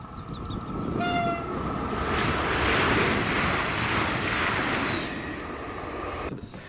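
A cross-country Voyager diesel train, the 5S99 empty-stock working, sounds a brief horn and then roars steadily past at Prora, rising and fading over several seconds.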